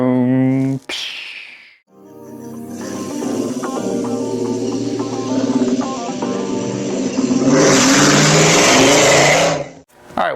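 A car engine revs hard and steadily for several seconds, loud and close and swelling near the end, after a voice briefly imitates an engine with a vroom.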